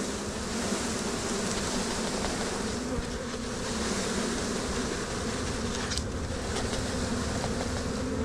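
Thousands of honeybees from a shaken package pouring into a hive, a dense steady buzzing drone that fills the whole stretch, close and evenly loud.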